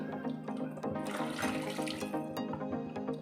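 Water poured into a mixer grinder jar to rinse out clinging spice paste, a steady splashing, gurgling pour that runs continuously for a few seconds, close and fairly loud.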